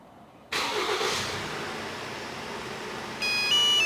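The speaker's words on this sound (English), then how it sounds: "And as you can see, the engine's all started." A Ford Transit Custom van fires up by remote start: quiet at first, then a sudden crank and catch into a steady idle, followed by a few electronic beeps near the end.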